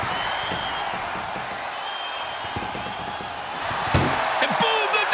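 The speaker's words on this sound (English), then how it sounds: "And boom, the door's shut, and there's the winner." An ambulance door slams shut during a wrestling match in WWE 2K25, a single loud thud near the end over steady crowd noise, followed by a smaller knock.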